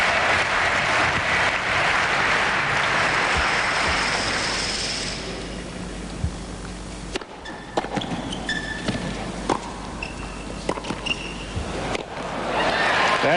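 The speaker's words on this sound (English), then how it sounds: "Crowd drowning everything out. The unison clapping." A large tennis crowd at the 1994 ATP Tour Final, Sampras versus Becker, claps in roaring waves that ease off, then breaks into scattered and rhythmic unison clapping with a few whistles.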